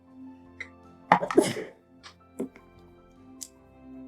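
A single sharp sneeze bursts out in a quiet indoor room, followed by a few smaller vocal sounds and faint background hum.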